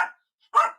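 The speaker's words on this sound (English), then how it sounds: "He's barking at Buka." A pet dog barks twice indoors, one short bark at the start and a fuller bark after a brief silence, fairly close and alone without talk.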